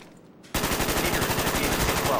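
Sustained machine-gun fire in a combat video game, a dense, steady stream of rapid shots that cuts in abruptly after a quiet moment and continues loud and close to the end.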